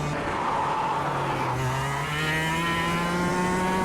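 A racing kart in the KartKraft game squeals its tires while warming them, the continuous screech riding over a rising, buzzing engine note that climbs steadily in pitch.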